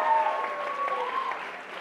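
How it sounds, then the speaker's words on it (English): Audience applause at a Bollywood Wives celebrity event, moderately loud continuous clapping with faint tonal background music running underneath. "we're going to give a big round of applause to Neelam"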